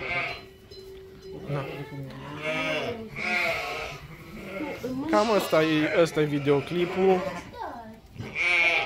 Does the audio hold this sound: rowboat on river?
no